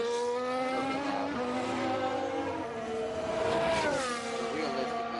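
A Formula 1 race car engine in the game F1 Manager 22, a loud, steady high-pitched whine with shifting tones that rise and dip as the car revs through gears, continuous and close throughout.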